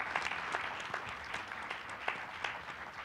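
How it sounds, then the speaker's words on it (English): Audience applause at a university Women's History Month celebration as panelists walk up to the stage, a steady wash of clapping at moderate, fairly distant level with scattered sharper claps and no talk. "If we can just give them a round of applause as they walk up here."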